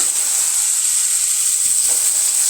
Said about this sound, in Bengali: ঢাকনা দিয়ে ঢেকে করলাটা ভেজে নিব।